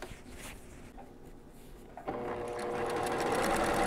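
A sewing machine stitches quilt strips together, quiet handling and rustling of fabric first, then the motor whirs up into a steady, rising mechanical hum that continues to the end.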